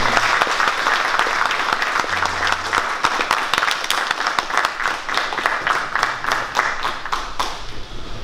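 A crowd applauds an award winner at a 2017 traffic police competition in Mielec, a steady, dense clapping that carries on throughout without any talk over it.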